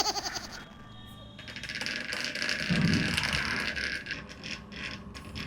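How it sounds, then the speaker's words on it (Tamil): A magnetic blender stirs a homemade perfume mixture, giving a close, rattling mechanical whir with clicking, ratchet-like texture that pulses unevenly throughout. "இதுதான் வந்து மேக்னெட்டிக் பிளெண்டரோட இது."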